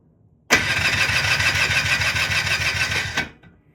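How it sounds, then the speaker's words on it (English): An electric starter cranks a 1991 Polaris Trail Boss 250 four-wheeler for nearly three seconds, a loud rapid rhythmic whirring churn up close that starts abruptly and cuts off without the engine catching. "The first test we're going to do is with the electric starter."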